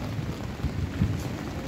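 Rain beating against a microphone outdoors, a steady low rumbling patter with dull buffeting thumps, fairly loud and continuous with no other sound over it.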